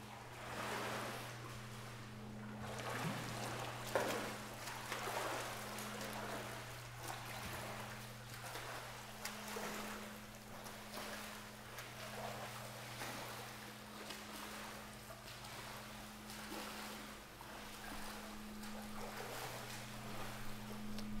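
A person swimming laps in a swimming pool: steady rhythmic splashing and churning water strokes, moderately near, with a constant low hum in the background and no talk.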